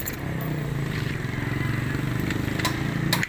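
A Yamaha Mio Sporty scooter engine, just overhauled after seizing from lack of oil, runs with a steady low putter throughout, with a few sharp clicks and rattles near the end.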